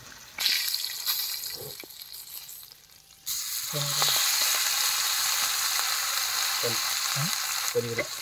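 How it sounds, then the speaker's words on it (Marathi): Fish frying in a pan, a crisp deep fry: a steady, loud hissing sizzle that swells after a quieter opening, with a few soft clunks of the pan or spatula during turning. "मछली एकदम माछाचा फ्राय झाली आहे."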